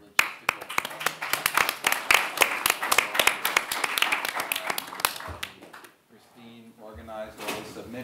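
An audience at a literary arts awards ceremony claps for several seconds, individual claps sharp and close, before the applause stops and a voice begins speaking.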